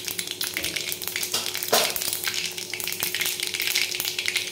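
Mustard seeds and cumin sizzle and pop steadily in hot oil, loud and close, with a continuous crackling hiss and scattered sharper pops throughout.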